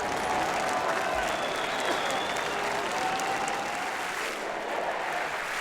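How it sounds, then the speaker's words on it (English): A large crowd of marchers in Paris applauds police as they drive through, with dense, continuous clapping and some crowd noise filling the street from start to finish. "Marchers applauded the police as they drove through."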